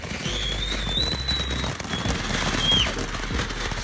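A Dazzle consumer firework, a carousel-style fountain, goes off outdoors on New Year's Eve as a steady crackling, hissing spray with whistling tones rising and falling over a low rumble.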